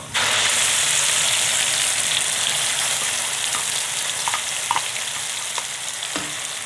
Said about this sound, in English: Now you keep frying this masala